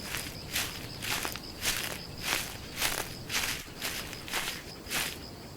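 Soft, rhythmic footfalls of a leopard moving through rain on the Masai Mara, about eight evenly spaced steps over a constant hiss of rainfall.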